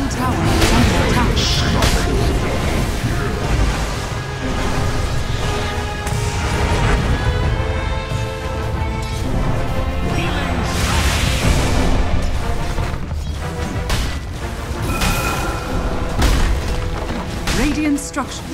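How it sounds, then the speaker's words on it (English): Continuous booms, crashes and impact bursts as a tower is attacked and falls in a Dota 2 match, a dense, loud, busy battle texture lasting throughout, with voices speaking over it at times. "Radiant's middle tower is under attack."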